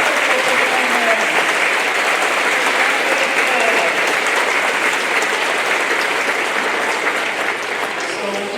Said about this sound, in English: Give our first and second graders as well as their teachers one more round of applause.